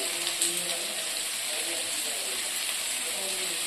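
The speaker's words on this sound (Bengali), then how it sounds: "এটাকে ফ্রাই করতে হবে" Spices with turmeric and salt fry in a pan for mango pickle, giving a steady, continuous sizzle that stays even and close throughout with no talking.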